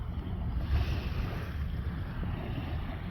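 Steady wash of ocean surf on the Pacific shore of Stanley Park in Vancouver, facing Burrard Inlet, with constant wind rumble and no voices.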